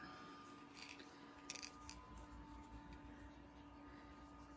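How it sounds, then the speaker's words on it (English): Scissors snip crochet yarn during a lion baby ring project. A few faint, quick cuts come through over a quiet room hum. "So you'll cut your yarn and pull that tight."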